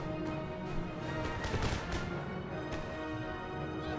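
Cavalry firing pistols in the video game Empire Total War: scattered crackling shots over a constant battlefield din, with a denser cluster of sharp reports in the middle of the stretch.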